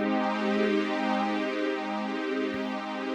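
A sustained synth pad from Zebra runs through a phaser at its default settings, a dense held chord whose tone sweeps slowly as notches drift up and down, steady and fairly loud with no voice.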